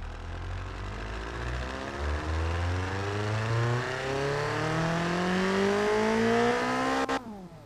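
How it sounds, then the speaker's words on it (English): A turbocharged Mazda Miata engine revs steadily upward in the BeamNG driving game, rising in pitch over several seconds to a high, loud peak before cutting off abruptly near the end. "Sounds like a tractor motor."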